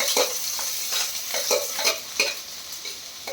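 Onion and green chili frying with chopped garlic, a constant close sizzle broken by regular scraping strokes of a spatula stirring in the pan, roughly every third of a second.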